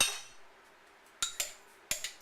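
A metal spoon clinks against a bowl of brownie batter during stirring: after a faint rustle, a few bright, brief taps come in two quick pairs, close and soft against quiet surroundings, with no talk.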